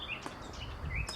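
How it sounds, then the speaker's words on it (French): Birds singing in a forest, with a few short bright chirps and whistled notes over a low, steady background for about a second. "Oh, que c'est dingue, ces oiseaux."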